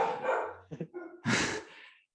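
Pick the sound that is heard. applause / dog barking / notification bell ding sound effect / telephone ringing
dog barking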